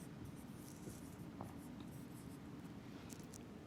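Writing on a board during an English lesson: a faint, continuous scratching of the marker or chalk, quiet and alone with no talk.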